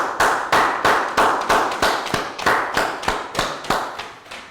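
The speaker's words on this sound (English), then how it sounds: "So give yourselves a round of applause." Students give a round of applause in a primary school science lesson, heard as a loose run of sharp, close hand claps with fairly steady spacing, each one striking clearly and fading before the next.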